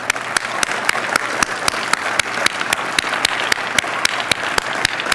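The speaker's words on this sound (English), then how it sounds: "Let's have a round of applause." Steady audience applause fills a scientific policy plenary session at the Ocean Sciences Meeting, dense clapping with a few sharp, louder claps standing out at regular intervals, close and sustained without talk.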